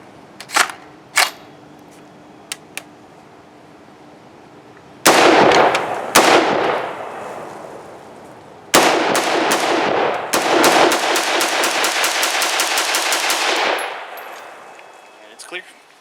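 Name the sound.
TommyBuilt T36K carbine test firing shots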